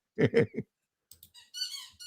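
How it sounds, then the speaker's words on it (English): A dog squeezes a squeaky toy downstairs, giving three quick rubbery squeaks followed by a longer, higher, wavering squeal, all fairly clear with no talking. "That's my dog squeaking the toy downstairs."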